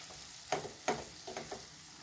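Semolina halwa frying in ghee in a pan, with a soft sizzle and a few louder stirring scrapes spaced across a short stretch, close and fairly quiet.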